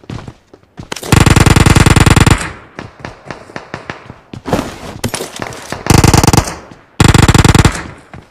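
Bursts of rapid automatic gunfire in a shooting video game, several long loud rattling volleys separated by shorter scattered shots and pauses.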